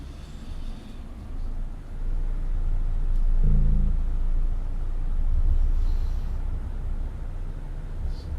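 A heavy truck engine rumbles steadily in a truck-driving video game, a low continuous drone that swells slightly midway as the rig gets on the throttle, with no talking over it.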